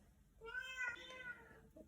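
A cat meows in a long, drawn-out call that rises and falls, close and fairly clear, followed by a brief second short mew near the end, with a quiet indoor room in the background.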